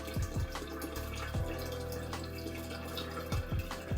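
Water splashes into a pot as half of the water for a kombucha brew is poured in, a steady close stream with a few sharper knocks and drips along the way, heard alone without voices.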